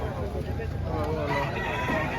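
A rooster crows at the Padre Garcia livestock market in Batangas, a fairly close, strained call rising above steady market hubbub.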